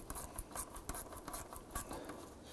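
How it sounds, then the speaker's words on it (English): Hose clamps being tightened on the intercooler of a 2015-2020 Ford F-150 with the 2.7L V6, giving quiet, irregular metallic scraping and rasping clicks in short bursts, close up with no talking. "I'm going to go ahead and snug down the clamps on this here."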